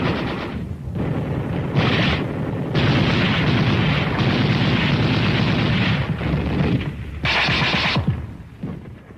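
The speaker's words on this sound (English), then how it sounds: "And from the ridge line, sparked by the Marine Brigade, foot soldiers unleashed their fire." Wartime battle with Marines firing from a ridge line, heavy bazooka in use, producing dense, continuous rumbling gunfire and explosions that run loud and sustained, broken by a few brief lulls.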